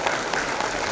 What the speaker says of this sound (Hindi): प्लीज जोरदार तालियों से उनका स्वागत करें